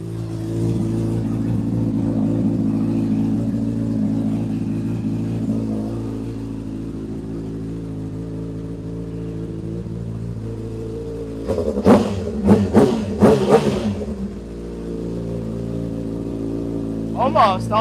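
A motorbike idles with a steady low rumble, then gets several quick throttle blips in a row before settling back to idle, with another rev starting at the end; close and loud.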